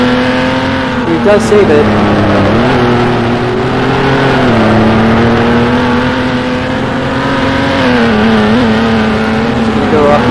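A 1960s Formula 1 race car at a 2022 Patriot Grand Prix, its engine droning loudly and continuously as it runs on the track, with the pitch rising and falling and a commentator speaking over it.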